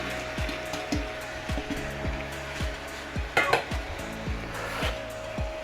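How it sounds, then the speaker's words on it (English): Cauliflower being stirred with masala in a pan, a spoon scraping and knocking in a regular rhythm of about two strokes a second over a continuous sizzle, close and moderately loud. "Give that a good mix, coating it well with all the masalas in there."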